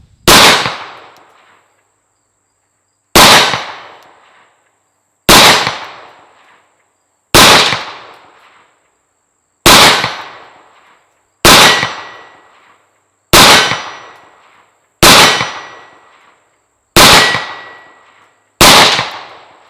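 Ten sharp, loud reports from a Rock Island Armory 1911 pistol chambered in 22TCM, fired at targets 50 yards away, each crack followed by a short decaying echo and spaced roughly two seconds apart, with no talking.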